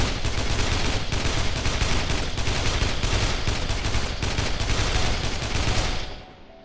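Sustained, dense automatic gunfire from Dead Island Definitive Edition on PS4 rattles on loudly and almost without pause for about six seconds, then cuts off abruptly into near silence.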